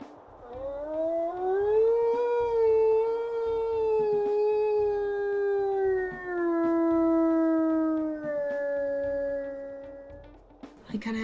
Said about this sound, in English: He kind of has a deeper howl for his primary